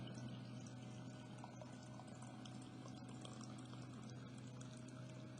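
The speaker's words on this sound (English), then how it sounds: "answer these questions while I pour coffee" Coffee being poured, a steady continuous liquid stream with a low hum running through it, moderately loud and unbroken for the whole stretch, with no voices.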